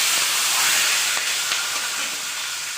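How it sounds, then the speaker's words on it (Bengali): Whole garam masala and bay leaf dropped into hot oil for pulao, giving a loud, steady, close hiss with faint crackles throughout, no voices. "তেলও গরম হয়ে গিয়েছে, ফোড়ন দিয়ে দিল গোটা গরম মশলা"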